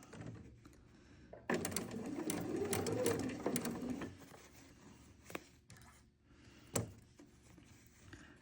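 A home sewing machine runs slowly in a quiet room, stitching curved pieces of an Almond Blossom quilt with a quarter-inch seam. A soft, steady whir of a few seconds rises and stops, with faint handling clicks afterward.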